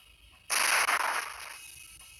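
Gunfire in a PlayStation 1 video game: a sudden loud burst of rapid shots lasting about a second, then a decaying noisy tail, no talking.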